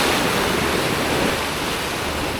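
Waves crash against rocks and cement breakwater blocks along a shore in Jakarta, a continuous loud roaring wash of surf and spray that fills the whole short stretch without pause or speech.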